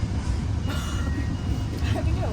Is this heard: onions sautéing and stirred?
no